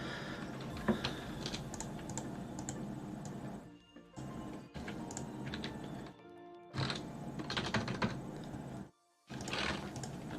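Rapid, uneven clatter of typing on a computer keyboard during custom Zombies map scripting for Black Ops III, steady runs of key taps broken by a few short pauses, close and fairly quiet with no speech.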